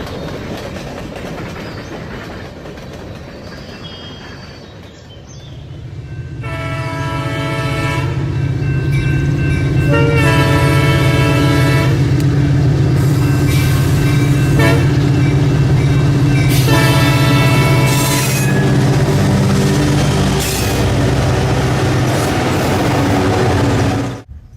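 A DT&I intermodal freight train rumbles closer, loud and steady, while its horn sounds in several long, sustained blasts over the heavy rolling roar and clatter of the cars.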